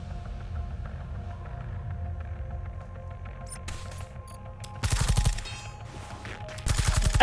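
Gunfire in the tactical strategy game Reverse Collapse: Codename Bakery, with sharp bursts of shots breaking out twice over a low, steady game background.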